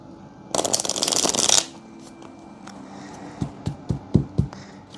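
A brisk riffle shuffle of tarot cards, a loud close burst lasting about a second, followed by several soft taps as the deck is squared.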